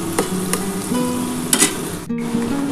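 Egg chow mein (Hakka noodles) sizzles steadily while frying in a pan, with a few sharp clinks and scrapes of a spatula stirring through the constant hiss.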